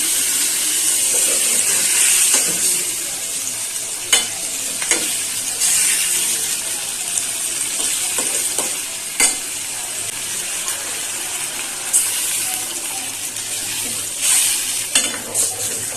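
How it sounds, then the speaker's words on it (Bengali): Rui fish cooks in a pan of spiced gravy with water just added, a bright hiss and bubbling with sharp spoon scrapes and clinks at intervals, near and fairly loud, with no voices. "মাছটা দিয়ে দেব একটু করে জল দিয়ে দিই"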